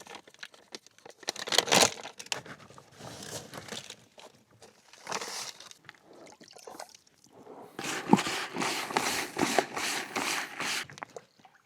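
A plastic bag of fishing groundbait crinkles and rustles close by, handled in irregular bursts with short quiet pauses between.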